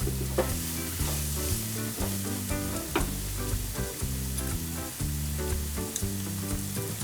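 Chili powder is stirred into a frying red spinach mixture for a cheera cutlet, a continuous sizzle under repeated rhythmic scraping strokes of a spoon against the pan.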